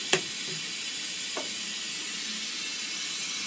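A hot air reflow station nozzle blows a steady, even hiss during repair work on a PlayStation 4 Blu-ray drive board. Two faint clicks sound over the airflow near the start.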